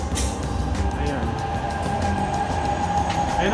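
A yellow-line Milan Metro train arrives at an underground station with a loud rumbling roar and a sustained high metallic wheel whine, while voices talk nearby.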